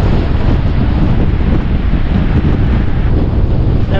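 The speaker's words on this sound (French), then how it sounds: "Retour vent de face." Strong headwind roars steadily into the microphone of a cyclist riding gravel roads by a lake, a loud continuous buffeting rumble that fills the whole stretch without letup.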